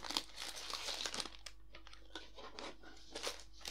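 Lego Ninjago set packaging being torn open, close crinkly crackling bursts of plastic and cardboard with short rips and crunches, fairly quiet and uneven, no talking.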